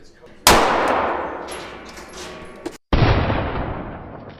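A single gunshot fired at 7 yards into one layer of floor tile: a sharp, loud crack with a ringing decay, followed by a second hard impact-like burst a couple of seconds later, with no talk.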